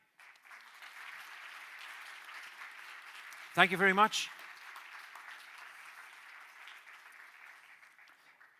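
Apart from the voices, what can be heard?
audience applause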